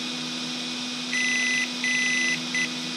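Three electronic beeps from a Bison V2 speed controller on an EzRun Max10 SCT being programmed: two long tones followed by a short one, clear over a steady low hum.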